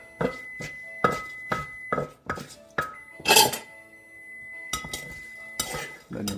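Pestle and utensils knocking and clinking against a bowl while som tam shrimp salad ingredients are mixed together, a series of close, sharp wooden and metallic taps in uneven bursts with brief pauses, no talking.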